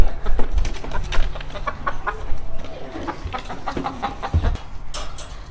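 Two roosters clucking and calling close by, repeated short bursts of fowl sounds over a busy outdoor background.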